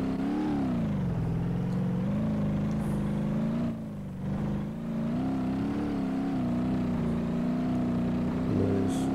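Engine of a 1972 Gavril Bandit in the BeamNG.drive video game drones steadily at near-constant loudness, its pitch rising and dipping slightly with throttle and a brief dip around the middle.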